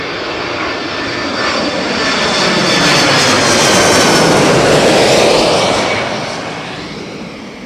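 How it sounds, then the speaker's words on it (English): A Boeing 767 jet landing at London Heathrow Airport, a loud broad engine roar that swells to a peak as it passes close and then slowly fades away. "see that aircraft landing. Spectacular, slam dunk, 767."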